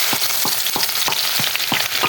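Chopped onion sizzles in hot oil with cumin seeds, a loud steady frying hiss broken by regular stirring scrapes roughly every third of a second.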